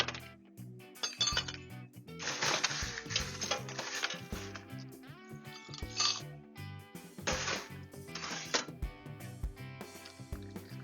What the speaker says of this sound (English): Pull over your glass, and then throw some ice in there.